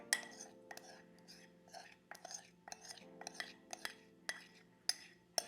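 A utensil stirring melted chocolate and butter in a bowl, with soft scraping and irregular light clinks against the side, close and quiet; a low steady hum sits underneath.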